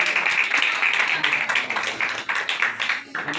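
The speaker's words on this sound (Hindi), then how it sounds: "तालियां बहुत कम है।" An audience applauding, a dense, fairly loud wash of hand claps that holds steady and then thins into scattered pulses toward the end.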